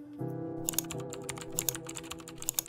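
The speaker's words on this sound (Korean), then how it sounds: "딸깍딸깍 마우스질하는 소리와 키보드 두들기는 소리만 들렸고" Rapid, irregular clicking of keys on a computer keyboard, close and clear, over a low steady hum.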